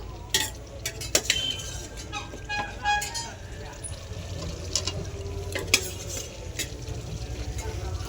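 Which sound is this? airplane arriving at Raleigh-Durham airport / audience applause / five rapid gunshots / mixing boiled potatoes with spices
mixing boiled potatoes with spices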